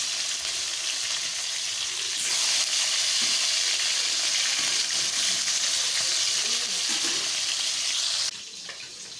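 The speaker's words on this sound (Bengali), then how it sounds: "মাছ ভাজছি কড়াতে।" Tilapia fish frying in a wok, a loud, continuous sizzle that swells as the pieces are stirred and turned, then drops back near the end; nobody speaks.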